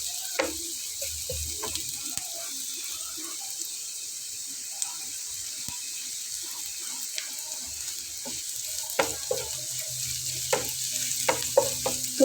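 Onions fry in oil for a Bengali breakfast dish, a steady low sizzle running throughout with scattered scrapes and clinks of a spoon stirring the pan, growing a little busier toward the end.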